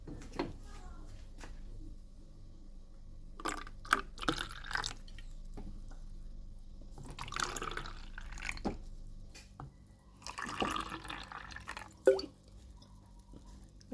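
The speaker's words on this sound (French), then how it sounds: "Parce que moi, je vais verser." A syrup and water mixture is poured during quick meal preparation, giving soft, intermittent liquid drips and splashes at close range. Quiet room tone runs between the bursts.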